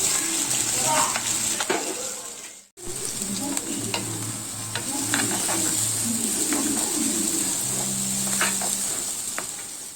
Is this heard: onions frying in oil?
yes